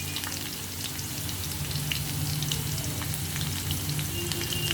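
Potatoes fry in a pan with a constant dense sizzle and scattered light crackles, steady and close at moderate volume, with no one talking.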